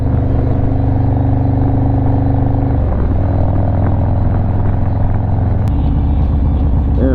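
A car cruises at about 50 mph in traffic, with a steady low engine and road hum inside the cabin that shifts pitch twice as the gears change, loud and continuous.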